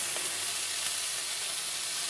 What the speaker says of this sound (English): We're just going to pop these onto a really hot griddle. You can really hear that sizzle.